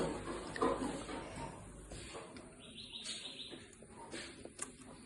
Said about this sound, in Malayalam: കിളി ഇങ്ങനെ കൊത്തി കൊത്തി കൊത്തി